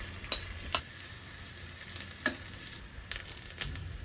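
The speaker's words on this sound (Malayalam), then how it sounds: "ഒരു പാൻ ചൂടാക്കി അതിലേക്ക് വെളിച്ചെണ്ണ ഒഴിച്ച് അര ടീസ്പൂൺ കടുക് ചേർത്ത് പൊട്ടിക്കണം" Faint scattered pops and crackles of mustard seeds spluttering in hot coconut oil in a pan, irregular and sparse, with no talking.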